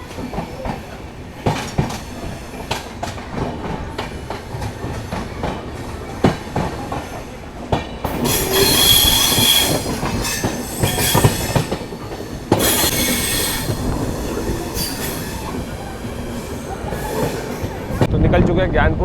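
Bhrigu Superfast Express rolling out of Gyanpur Road station, its carriages rattling with steady clickety-clack, rising wheel squeal and rumble building from the middle onward, heard from inside the train with occasional voices in the background.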